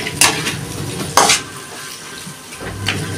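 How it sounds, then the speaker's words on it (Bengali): Rui fish pieces sautéing in oil give a steady close sizzle, punctuated by a few sharp scrapes and clinks of a spatula against the pan, with a low hum underneath. "একটুখানি আমি কষিয়ে নেব।"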